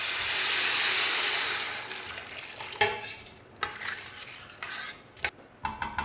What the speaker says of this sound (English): we will add the vegetable stock.